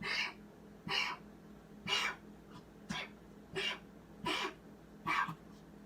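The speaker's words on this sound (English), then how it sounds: "hear like a dog coughing in the background" A dog with early heart failure and fluid around the heart gives a series of short, raspy hacking coughs, about seven bursts spaced roughly a second apart, fairly close in a quiet room.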